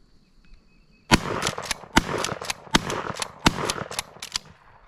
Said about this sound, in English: Let's do a rapid fire test to see how well it shoots.